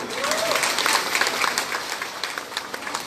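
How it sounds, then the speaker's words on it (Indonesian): Applause from a large public gathering in Banjarnegara for the women of the audience, a broad, steady crowd clapping with a brief voice call at the start. "Tepuk tangan dulu untuk ibu-ibu."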